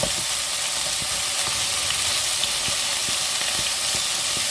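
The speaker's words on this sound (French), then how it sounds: "vous laissez dorer vos oignons" Onions frying and browning in a pan for a blanquette de veau, with a steady, close sizzle that holds throughout and a few soft clicks of stirring scattered through it.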